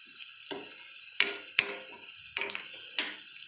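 Spicy carrot stir-fry being mixed in a pan, with a few separate scraping and clattering strokes of a spatula over a steady high hiss, close and fairly quiet, no voices.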